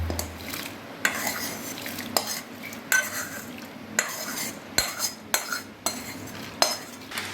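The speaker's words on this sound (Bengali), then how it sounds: "এবার গরম জলের ভিতরে ফোড়ন দেওয়া যে চালটা ছিল চালটা ঢেলে দিলাম" Tempered rice for moong dal khichuri going into a pot of hot water, with a utensil scraping and clinking against the pot in a regular series of sharp metallic strokes over a quiet background.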